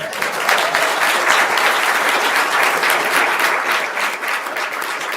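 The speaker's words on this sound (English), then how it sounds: "round of applause for Miss Dott." Loud, close applause fills a city council meeting chamber in Newport News, a dense continuous clatter of many hands that holds steady throughout with no talk over it.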